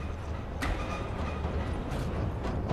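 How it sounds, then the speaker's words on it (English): A train rumbles past in the video game Observer, a steady, dense wash of rolling noise lasting throughout, with a couple of brief louder surges. "It sounds like a goddamn train or something is going by me"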